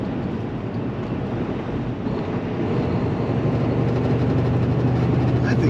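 Steady wind rumbling and buffeting against the microphone outdoors, a continuous low roar that swells slightly louder midway.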